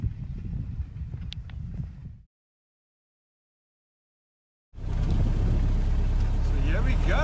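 A 1915 Ford Model T drives along on a sunny day, a steady low engine rumble with wind buffeting, cut by a stretch of silence before the loud, close engine and road noise return.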